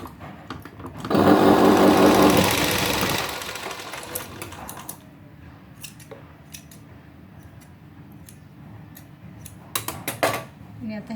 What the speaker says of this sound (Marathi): आणि इथं शिलाई मारायची